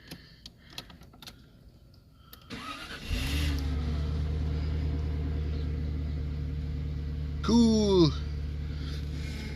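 Jaguar car engine cranking and catching after a fuel pump refit, then settling into a steady close idle, with a brief squealing chirp near the end and a short spoken remark.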